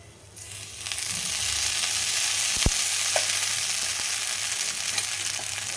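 Loud, steady sizzling of a jowar uthappam topped with onion, carrot, green chillies and coriander, frying in oil drizzled around it on a pan, with one brief clink partway through and no talking.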